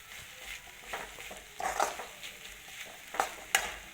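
Vegetables salted and frying in a pan for veg fried rice, stirred by hand: soft steady sizzle under a run of scraping, clinking stirring strokes that come in irregular bursts, close by, with no talking.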